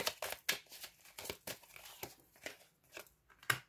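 Tarot cards are drawn and handled during a reading, making a string of close, quick papery crinkles, flicks and rustles in an irregular rhythm, soft and without any voices.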